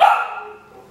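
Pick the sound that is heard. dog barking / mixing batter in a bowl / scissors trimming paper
dog barking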